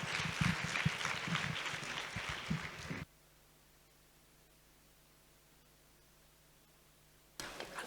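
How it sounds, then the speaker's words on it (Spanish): Conference audience applauds the speakers: about three seconds of loud, crowded clapping that cuts off abruptly into near silence, then a brief burst of applause returns at the very end. "Un aplauso para ellas también"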